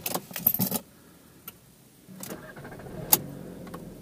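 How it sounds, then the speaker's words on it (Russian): Keys jangle briefly up close, then after a pause a carsharing car's engine cranks and catches, settling into a low steady idle inside the cabin. "автомобиль мы завели и можем ехать куда нам угодно"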